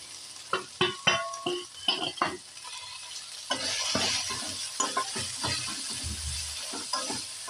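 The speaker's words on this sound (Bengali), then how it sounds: "মশলাটা আমার ফ্রাই হয়ে গেছে।" Ground spices, including red chilli powder and a little dried fenugreek, sizzle in hot oil in a pan for Delhi-style chole while being stirred. Steady frying hiss runs under repeated scraping stir strokes, with no talking.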